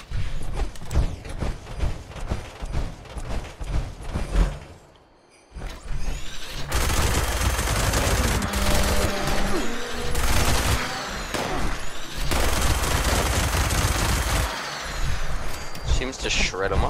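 Furious-legendary minigun blasting in Fallout 76 as a dense, loud continuous stream of rapid gunfire with mechanical whirring, pausing briefly in the middle before resuming at full roar.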